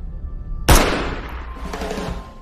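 A single sharp gunshot ringing out in a dramatic film scene, loud and close, with a sudden blast followed by a long fading reverberant tail.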